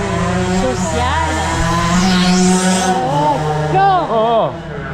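A motorcycle engine revs and roars with rising and falling whines along a coastal road on a hike between Argelès and Collioure in France. It is loud and close, with several swells, while people talk nearby.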